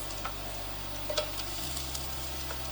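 Three cloves of chopped garlic, cut into small chunks rather than minced, sizzle steadily in a hot pan for a chicken and cream-sauce pasta dish, a close, even fry with a few faint clicks and stirs.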